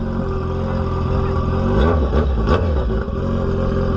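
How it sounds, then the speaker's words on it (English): A motorcycle engine revs up near the listener, rising in a couple of throttle blips over a steady idle, with some clatter mixed in. "It's going to be loud though, just so you know. Yep, just press that. You want to rev it?"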